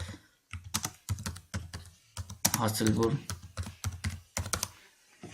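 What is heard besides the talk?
typing an address on a computer keyboard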